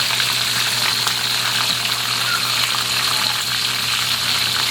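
Chicken frying in hot oil with lemongrass added, a steady, loud, close sizzle that crackles continuously throughout, with no voices.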